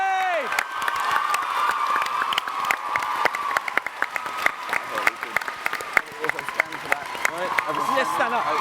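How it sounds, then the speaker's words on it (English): A large convention crowd at TwitchCon Amsterdam claps hard and cheers, with whoops and shouts over dense sustained applause, loud and close, while voices call out through it. "can we give an almighty round of applause so loud every corner of the globe?"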